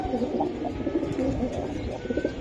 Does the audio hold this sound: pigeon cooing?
yes